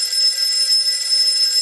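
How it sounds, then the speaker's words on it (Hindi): A telephone rings in a radio play, a steady bright electronic trill lasting under two seconds, loud and alone with no voices. "लो, फोन भी आ गया।"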